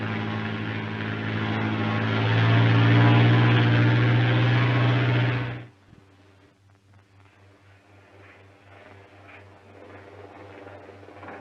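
A propeller airplane drones loudly and steadily for several seconds, then cuts off abruptly, leaving a low hum and faint background noise.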